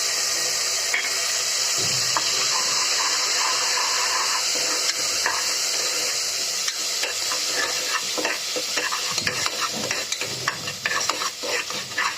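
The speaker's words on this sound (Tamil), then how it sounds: "இப்போது நம்ம அரைச்சி வச்சுருக்க இந்த மல்லி சாஸ் ஊற்றிக்கலாம்" Ground coriander paste pours into cumin seeds frying in hot oil for malli pongal, giving a steady loud sizzle with stirring scrapes and some water-like splashing throughout.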